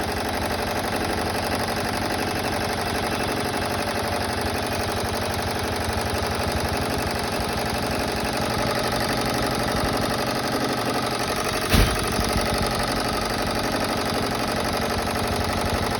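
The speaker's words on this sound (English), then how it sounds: "Now you can see it's tacking tacking down the fabric." An embroidery machine stitches and tacks down chenille fabric with a steady, rapid mechanical chatter and hum, close and continuous, with one brief sharp click partway through.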